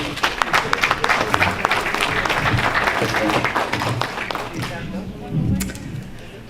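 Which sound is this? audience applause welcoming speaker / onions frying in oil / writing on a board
audience applause welcoming speaker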